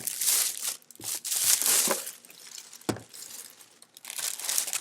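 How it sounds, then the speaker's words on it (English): Plastic bags from a Conair soft bonnet dryer box crinkle and rustle loudly up close, packed back into the box in several bursts of crackling with brief pauses. "Put all our plastic bags back in the box."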